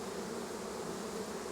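Honeybees buzz steadily at an opened beehive, a dense continuous drone of many insects close by with no pauses.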